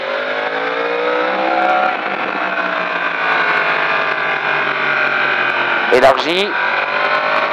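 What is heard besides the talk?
motorcycle accelerating at full throttle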